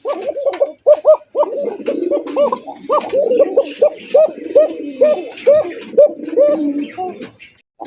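Large Farm Satin pigeons coo in a steady repeating rhythm of throaty rolling calls, several birds close by overlapping over a few seconds, with faint chatter from other birds behind them.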